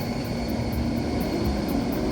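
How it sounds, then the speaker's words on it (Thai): Airplane taking off at LAX, a steady loud broadband engine roar with a low rumble that holds evenly throughout, heard alone without voices. "เดี๋ยวดูเครื่องบินออก"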